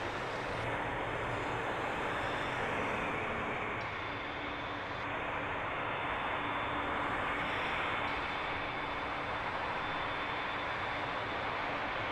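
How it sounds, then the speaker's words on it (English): A British Airways Airbus A320neo arriving on the northern runway at Heathrow Airport: a steady, loud broadband jet roar that holds for the whole stretch without a break, with no voices over it. "Next to arrive here on Heathrow's Northern Runway, British Airways flight 901. It's an A320neo."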